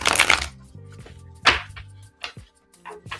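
Tarot cards being shuffled by hand in short riffling bursts separated by brief pauses, with faint clicks and a soft hum in between.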